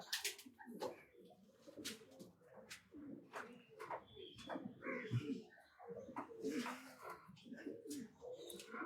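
Racing pigeons at a loft coo in repeated soft throaty bursts, overlapping one another at close range with other birds chirping around them.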